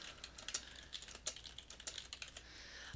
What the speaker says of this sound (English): Just type your text